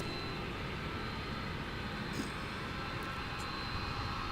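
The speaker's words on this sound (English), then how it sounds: "is this UPS going right by us on taxiway Mike." UPS cargo aircraft taxiing past on a taxiway at Minneapolis–St. Paul airport at night, a steady loud engine roar and whine that holds level throughout, without talk.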